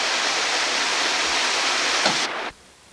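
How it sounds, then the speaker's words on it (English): Waterfall near Russell Pond, a loud steady broadband rush of falling water that suddenly drops away near the end of the clip. "we'll leave you with the nice waterfall in the background"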